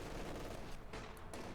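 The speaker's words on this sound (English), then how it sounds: "Machine gun versus machine gun, pins" Machine gun fire from Company of Heroes 2, with Wehrmacht and Soviet guns trading bursts in a WWII battle, heard as a steady, fairly faint crackling rattle for the whole stretch.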